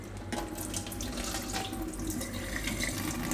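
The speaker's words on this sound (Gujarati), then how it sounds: "તો 1-2 પાણીએ ધોઈ નાખવાના." Flattened rice (poha) being rinsed in a vessel, with water running and splashing continuously, close and steady, with no talking.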